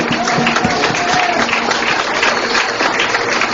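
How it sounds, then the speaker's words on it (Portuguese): A worship gathering in Brasília claps to the Lord, with steady, loud applause from a large crowd filling the whole stretch and a faint voice or tone faintly audible within it. "Let's clap to the Lord"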